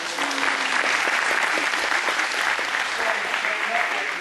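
An audience at an after-prom hypnotist show claps steadily for several seconds, a dense, loud, even wash of applause filling the room.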